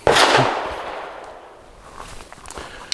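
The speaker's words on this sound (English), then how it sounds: "After shots on the Mark 23 K100, well, from this quick range session" A single sharp pistol report from a Grand Power K100 Mk23 at a shooting range opens the moment, loud and close, followed by a decaying echo and faint handling noise, with no talk.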